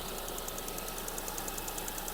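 A Skoda Octavia engine with 161,000 km idles steadily nearby, a smooth even hum with a faint rapid ticking pulse.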